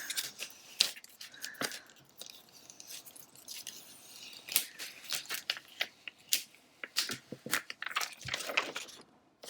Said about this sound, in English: So I like to just kind of pull up a corner and just peel away.